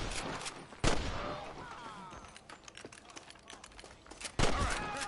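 Gunfire in the video game Red Dead Redemption, two sharp loud shots about three and a half seconds apart, each with a trailing echo, over a quieter stretch of outdoor game ambience between them.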